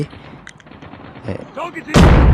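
Explosion and gunfire in the mobile shooter Call of Duty: Mobile, a sudden loud blast bursting in near the end after quieter game sounds, with a player's voice murmuring before it.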